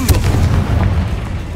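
Confringo blast spell exploding in Hogwarts Legacy, a short loud booming burst with a sharp crack at the start followed by a rumbling tail.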